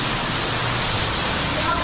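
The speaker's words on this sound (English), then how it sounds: "there's definitely water coming from somewhere" Water pours into a cave after a heavy storm, a loud, steady broadband rush like a waterfall filling the space without pause.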